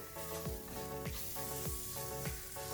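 Garam masala, cumin powder and chana dal masala are sautéed in a pan, giving a faint, steady sizzle with regular soft scraping stir strokes.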